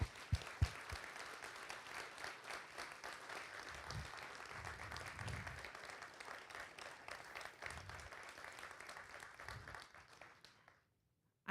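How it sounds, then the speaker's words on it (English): Sustained applause from the audience at a Black In Gaming presentation, a dense steady clatter of many hands with a few sharp claps at the start, holding strong for about ten seconds before cutting off. "Please give yourself a round of applause."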